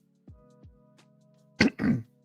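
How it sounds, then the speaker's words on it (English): Several low, soft throat-clearing grunts, then two sharp, harsh coughs in quick succession, close by with no talking. "I'm trying to keep that cough down"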